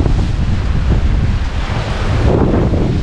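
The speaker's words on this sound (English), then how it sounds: "Blowing 27 knots at times." Strong wind of over twenty knots at sea aboard a sailing yacht with jib and mizzen up, a loud constant roar with buffeting gusts and rushing water, no voices.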